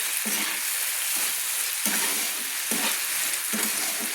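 Spices with added salt frying in oil in a pan for a mati aloo and egg curry, stirred with a spoon in steady scraping strokes about once a second over a constant close sizzle.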